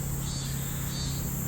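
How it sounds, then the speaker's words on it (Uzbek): Insects shrilling in trees in summer heat, a continuous high buzzing drone with gentle pulsing swells, steady and moderately loud, no voices. "yoz kelganini mana daraxtlardan qo'ng'izlar bor."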